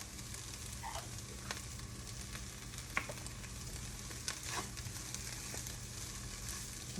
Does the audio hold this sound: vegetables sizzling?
yes